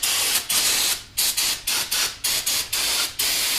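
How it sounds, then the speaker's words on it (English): Repeated bursts of aerosol cleaner sprayed onto a junkyard engine's crankshaft, about ten short hissing blasts in quick succession with brief gaps, close and loud. "I'm going to spray down my crankshaft."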